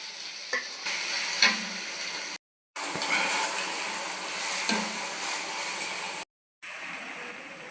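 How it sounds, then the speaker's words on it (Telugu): Onions sizzle and fry in oil left over from frying kingfish, a steady crackling hiss with occasional stirring clinks, close and moderately loud, broken by two brief silent gaps. "ఈ ఫిష్ లేపిన ఆయిల్లోనే ఆనియన్స్ వేసేస్తున్నానండి"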